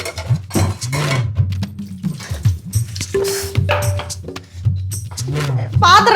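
Pots and metal vessels clatter and clink in a home kitchen, with repeated handling knocks and scrapes running under continuous close conversation between two people.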